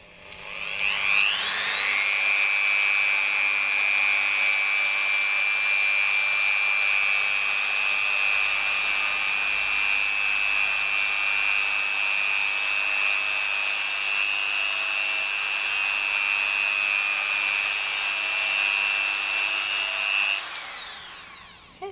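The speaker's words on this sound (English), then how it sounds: "Okay, so now I'm going to buff" A polymer clay pendant is buffed on a motorized buffing wheel, which spins up and holds a loud, steady high-pitched whine for about twenty seconds before winding down at the end.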